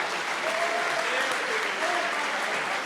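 Congregation applause at an evangelical church service fills the space with steady, dense clapping, loud and continuous from start to end, with a faint voice or two rising through it.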